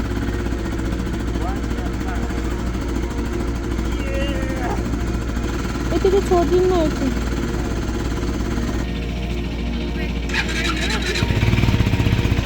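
A KTM Adventure 250 motorcycle on a cold start in freezing temperature, its engine settling into a steady low idle rumble close by, with someone talking over it and a brief rev near the end.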